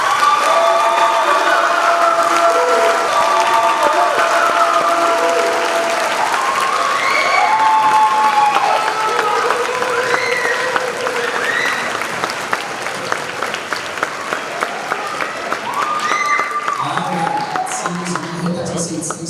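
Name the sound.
audience applause for seniors at school concert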